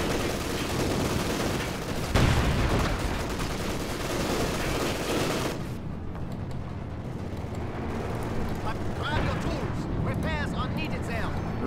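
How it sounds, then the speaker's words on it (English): Rifle fire during a Company of Heroes 2 multiplayer battle, dense continuous shooting and rumbling explosions in a chaotic wartime soundscape, with a voice talking over it. "so they're shooting me with, rifles"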